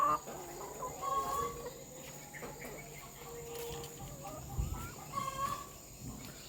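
Laying hens clucking in a chicken coop on a semi-intensive egg farm, several close, repeated clucks and short calls over a steady insect drone, with quiet background noise and a person speaking faintly.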